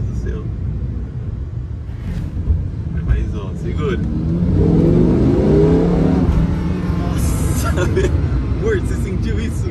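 A rented sports car accelerates hard on a road in Dubai, its engine rising from a low rumble into a swelling, throaty roar mid-clip, heard from inside the cabin while people talk excitedly over it.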